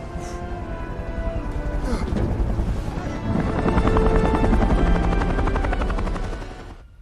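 A helicopter lifts off with a loud, steady rotor chop and turbine whine that swells and holds close, with a sharp burst at the very end.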